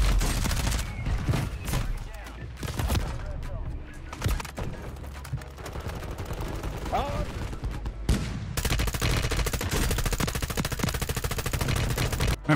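Dense automatic gunfire from the Warzone video game rattles in sustained bursts, loud and close, with short gaps, continuing almost without pause through the clip while a voice talks.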